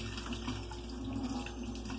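Tap water streams steadily from a kitchen faucet over raw shrimp being rinsed for shrimp broth, a continuous close hiss and splash with no voices.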